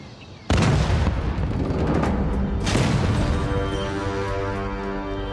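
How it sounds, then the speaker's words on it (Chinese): An explosion in a Chinese period drama scene, a sudden loud boom that rises out of quiet and rolls on with a long rumbling tail and a second surge, accompanied by a sustained musical tone. "是爆炸了，好像是城西。"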